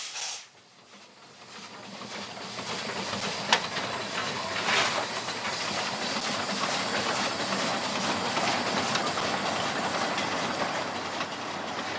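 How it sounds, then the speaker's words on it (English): A geared Heisler steam locomotive with two inclined cylinders runs steadily nearby in New Zealand, a continuous rumbling hiss with faint rhythmic clatter throughout. "The Heisler design has two inclined cylinders set at 90 degrees to each other"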